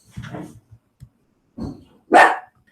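A small dog barks in a few short, separate bursts, the last one louder and sharper, with quiet pauses between them.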